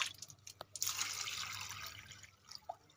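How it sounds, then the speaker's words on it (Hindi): Water poured into a row of garden plant pots, a steady splashing pour with a few drips at the start, fairly close and moderately loud, with no talking. "तो गाइस अब डालते हैं हम दूसरी लाइन में अपने सारे दूसरी लाइन के जितने भी गमले उनमें डालते हैं गाइस पानी।"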